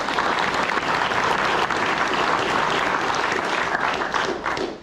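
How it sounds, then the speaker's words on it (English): Sustained applause from a ceremony audience at a frocking ceremony, a steady dense clapping crowd throughout, loud and unbroken, tapering slightly at the very end. "Give them a round of applause."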